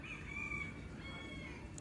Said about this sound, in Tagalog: May bumalik na ibon yun